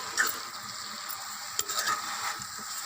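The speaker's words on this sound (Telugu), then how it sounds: "అలాగే అల్లం వెల్లుల్లి పేస్ట్ ఇందాక మిగిలింది కదండి, అది కూడా వేసేసుకుందాం. వేసి మొత్తం ఒకసారి కలుపుకుందామండి." Bottle gourd masala curry with ginger-garlic paste being stirred in a hot pan, a steady broadband sizzle with soft scraping strokes and a sharper clink near the middle.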